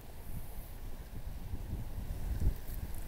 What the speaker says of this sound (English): It's bloody windy as well.